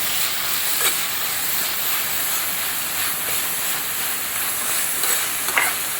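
Onions and shallots salted and frying in a clay pot give a steady close hiss and sizzle, with a few faint scrapes and knocks of stirring scattered through about six seconds.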